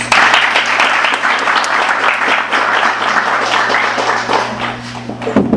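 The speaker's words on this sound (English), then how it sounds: "Let's please give them a warm round of applause." An audience at a book event for James Pogue's "Chosen Country" gives a warm round of applause, loud, full and sustained clapping from a crowd, with a low steady hum beneath it.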